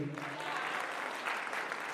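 An audience at a Tabasaran New Year concert in Derbent claps together in steady, dense applause that carries on for a couple of seconds after a brief voice at the start.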